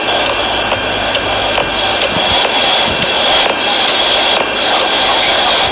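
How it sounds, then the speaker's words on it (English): Jet airliner engines spool back up in a flight simulation game, giving a steady, loud, close roar with a faint whine that holds throughout. "The engines are turning back."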